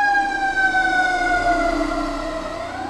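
A fire truck siren passes outside a house, a loud wailing tone slowly sliding down in pitch as it moves by, with engine rumble underneath.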